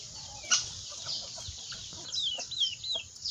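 Chickens and a rooster cluck and chatter in a backyard flock with young chicks, a continuous busy mix of near and far calls over soft outdoor noise, with no voices.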